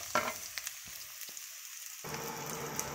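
Pork belly sizzling in a hot pan, a steady crackling fry with a short quieter gap before the sizzle swells back at a constant, moderately faint level.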